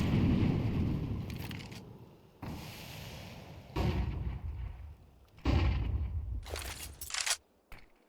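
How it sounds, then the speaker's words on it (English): Heavy artillery fire in a competitive online shooter match, several deep booming blasts spaced a second or two apart, each with a rumbling tail, loud and close with brief quieter gaps between. "Do love some handy artillery."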